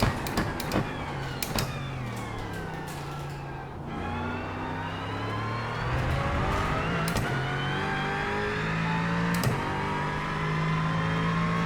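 A simulated Aston Martin race car engine in the iRacing game, loud and continuous, climbing and dropping through gear changes with rising revs and occasional sharp shifts, no talk.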